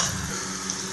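Butter and a spoonful of oil fry in a pan for cheese pasta, giving a steady, close hiss and crackle with no break.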